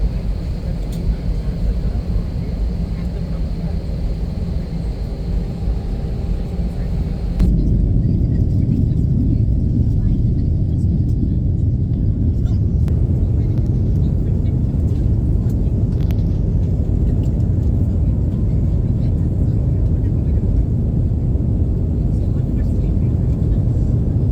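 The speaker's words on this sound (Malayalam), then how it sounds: "ആ സമയത്താണ് ഫ്ലൈറ്റ് പൊങ്ങണേ" A passenger flight from Bengaluru to Varanasi takes off, heard from inside the cabin: a steady low engine roar swells noticeably louder partway through and holds, with voices faintly under it.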